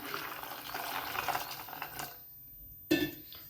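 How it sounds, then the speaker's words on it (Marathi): Water poured into a metal pot of soybeans gives a short stretch of splashing, then a pause and a single bright metallic clink. "आणि यामध्येच पाणी घालायचं आपल्याला"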